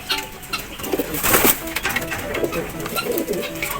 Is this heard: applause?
no